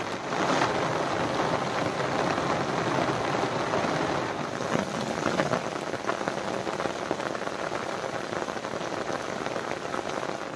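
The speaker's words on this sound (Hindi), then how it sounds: "अभी भी बहुत भयंकर वाली बारिश लगी है" Heavy rain pours down in a Himalayan hill village during a cloudburst, a dense, steady roar of water hammering surfaces, loud and unbroken throughout with no voices.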